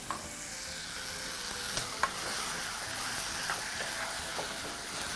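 A spoon stirs a carrot coconut stew with tomatoes, spices and stock in a pot, giving a steady soft sizzle and hiss with a few faint clinks of the spoon, and no talk.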